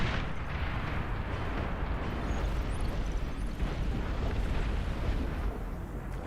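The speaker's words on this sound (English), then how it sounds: "Long-range plasma cannon's doing work over there." Long-range plasma cannons fire in the strategy game Beyond All Reason, making a dense, continuous rumble of distant explosions and booms that holds steady and loud throughout.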